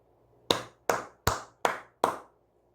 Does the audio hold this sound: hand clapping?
yes